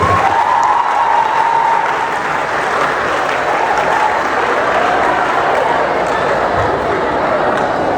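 Audience applause at a nurses week debate event, a dense steady wash of clapping from a crowd that holds for the full stretch, fairly loud with a faint murmur mixed in.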